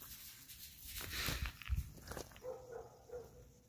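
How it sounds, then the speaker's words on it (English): A dog barks a few times at a distance from full kennels, faint and brief, with some rustling and shuffling nearby. "Three distinctive barks, distinctive dogs."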